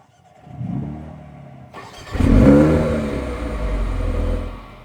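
A Mercedes-AMG A35 engine cranks and fires up, catching with a loud bark and settling into a deep, rumbling idle; no voices.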